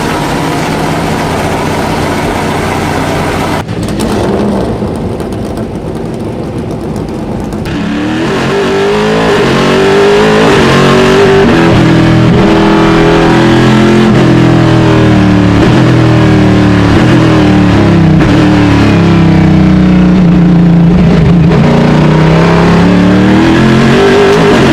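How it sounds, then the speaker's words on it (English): Chevrolet Corvette C6R GT1 race car with a straight-cut gearbox, its loud engine accelerating and revving through gears, close and sustained with a deep, dual-toned roar and rising whine, with no talking. "The GT1 spec C6R delivered one of the greatest dual-tone sound profiles in endurance racing."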